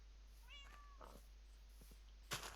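A cat in the Minecraft video game gives a short rising meow followed by a couple of fainter mews and a brief soft burst, quiet over a steady low hum.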